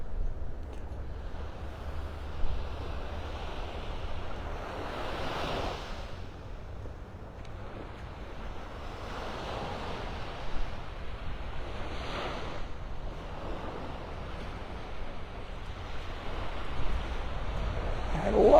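Gulf surf rolling onto Delnor-Wiggins beach in North Naples, Florida, with waves breaking in repeated slow washes under steady wind buffeting the microphone, alone without talk.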